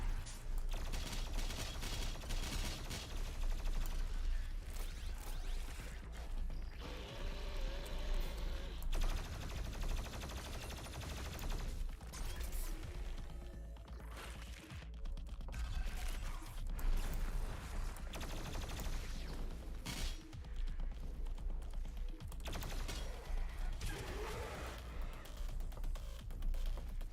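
BFG 10,000 weapon firing in a video game, a dense, continuous barrage of booming blasts and mechanical clatter with rumbling low end, steady and loud throughout with no talk.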